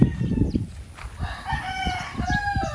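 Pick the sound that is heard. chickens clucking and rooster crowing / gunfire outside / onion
chickens clucking and rooster crowing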